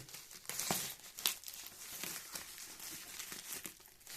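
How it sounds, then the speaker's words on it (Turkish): Bubble wrap bag crinkling and crackling as it is pulled open while a packaged Everton Bluetooth speaker clock music box is unpacked, with close, irregular rustles and a few sharper crackles. "satıcı firma baloncuklu poşetin içine idare edecek şekilde sarmış."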